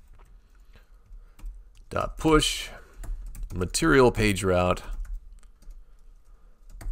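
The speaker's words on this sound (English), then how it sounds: "Get my fingers on the right spot of the keyboard." Fingers type on a computer keyboard while Flutter code is entered, with bursts of rapid key clicks and short pauses, close and fairly loud, as someone speaks over parts of it.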